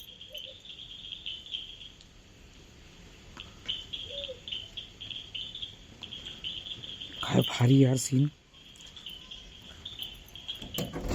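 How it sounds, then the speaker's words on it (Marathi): Frogs croak at night in a village during heavy monsoon rain, a short loud burst of croaking rising over steady, high insect chirring, with a voice talking nearby. "तो आवाज येतोय बेडकाचा"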